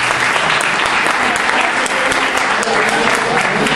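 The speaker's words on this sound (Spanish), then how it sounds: "Quiero un fuerte aplauso también para ellos." An audience applauds loudly and steadily at a hip hop literature event, a dense wash of clapping with no break throughout.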